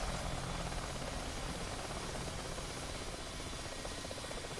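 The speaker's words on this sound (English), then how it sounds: "The Apache's ready for attack." Apache Longbow attack helicopter in a flight simulator game, its rotor and turbine drone forming a steady, dense wash of noise that holds constant and unbroken throughout, with no voices over it.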